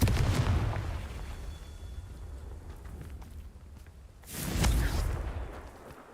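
The Confringo blasting spell in the video game Hogwarts Legacy erupts twice: first a loud burst right away, then a heavier explosive blast a few seconds later. Quieter rumbling ambience fills the space between the two blasts.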